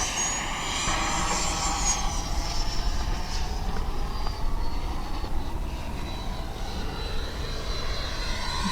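An FMS Integral 80mm EDF RC jet passing overhead at under half throttle, a steady whooshing ducted-fan whine with a faint high tone sliding slightly as it moves, moderately loud and constant throughout, no voices.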